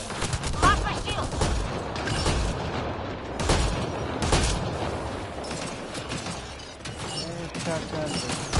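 Shotgun gunfire in the Apex Legends video game: a dense, loud run of blasts and impacts with rattling game effects and a player talking over the action.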